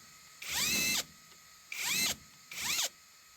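A One Band impact wrench spins caliper bolts loose on a 2006 Nissan Sentra 1.8 L, three sharp rattling hammering bursts close by, each under a second long, with short pauses between them and no talk.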